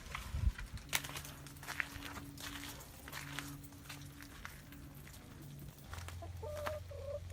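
A hen clucks softly in a straw-bedded coop during an ice storm, with low drawn-out murmuring clucks and a few sharper calls, faint and close with quiet shuffling around.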